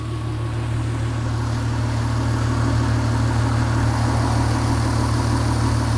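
A $450 old winter beater car idles steadily at close range, a constant low rumbling drone with an even, unchanging level and no revving, heard alone.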